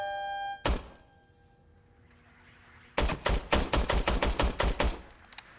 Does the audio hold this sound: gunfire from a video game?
yes